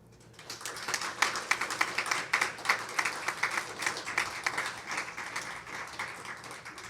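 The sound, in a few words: applause from the MacDougall family and relatives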